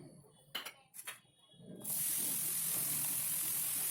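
Fresh coriander leaves hit a hot pan while chutney cooks over a running stove. A couple of quick clattering knocks come first, then a loud, steady, hissing sizzle bursts up and keeps going.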